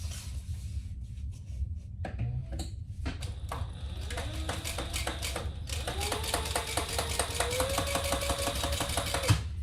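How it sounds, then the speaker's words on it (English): A sewing machine bastes stitches around a unisex crossbody bag. A few scattered clicks come first, then a rapid, steady mechanical chatter builds and runs continuously, heard close up. "Let's baste all the way around that."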